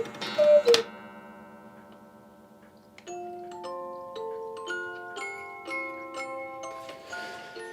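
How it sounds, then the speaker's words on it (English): Gigantic hand-carved Bavarian cuckoo clocks tick softly and close by, with bright music-box notes chiming in a slow melody over the ticking. "2 gigantic hand-carved Bavarian cuckoo clocks, hang in his bedroom"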